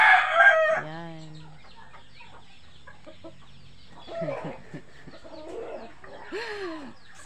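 A rooster crows loudly and close at the start inside a coop housing chickens and ducks, followed by scattered softer clucks and calls from the fowl.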